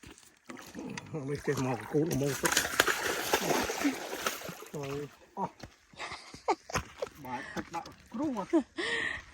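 Water splashes and sloshes repeatedly as a catfish of about 10 to 11 pounds thrashes, with excited talking over much of it.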